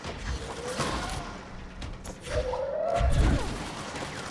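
Objects hurled at enemies in the game Control smash and thud in a few scattered crashes, with a heavier impact near the end, mixed with gunfire-like cracks and game effects at moderate loudness.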